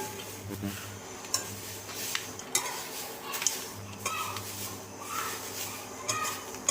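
Drumstick leaves dry-roasting in a pan on low heat without oil, with soft scraping and stirring, light clinks of a metal spoon against the pan and a faint sizzle, no talking.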